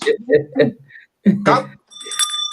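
Speech breaks off, then a single bright bell ring sounds after a short pause, its ringing tones sustained briefly and cleanly on their own.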